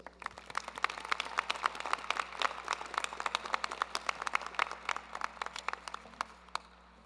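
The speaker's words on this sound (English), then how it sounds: "let's give a round of applause to the family and friends, mentors, and encouragers who have supported you during your time as a graduate student." Audience applause at a graduate and professional hooding ceremony, a steady patter of many hands clapping at moderate volume that holds for several seconds and tapers off at the end.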